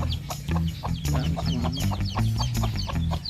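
Close, busy clucking from hens at a farm, short throaty notes repeating in a quick, irregular rhythm over a low background.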